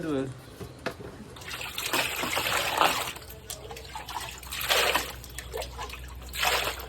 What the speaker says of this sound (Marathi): सगळ्यात आधी आंबे धुवून घ्यायचे स्वच्छ